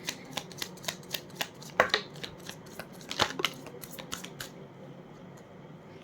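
Tarot cards shuffled and drawn close by, a run of crisp flicks and soft snaps in an uneven rhythm, settling into quieter handling near the end, with no talk.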